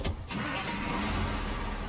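A truck engine in the Snowrunner video game cranks briefly and catches, then settles into a steady, loud idle rumble with no talking over it.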